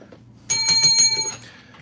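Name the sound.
bell being rung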